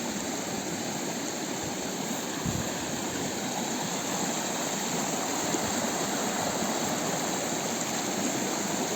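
A steady, continuous rush of flowing water, like a stream close by, unbroken and even in loudness with no voices.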